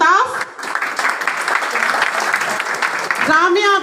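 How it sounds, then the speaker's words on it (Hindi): Audience applause at a Bahrain program event, a sustained wash of clapping from a crowd that carries through the whole stretch, with voices rising over it near the start and again at the end. "तालियां बजती रहें जब मैं इनका नाम लूं"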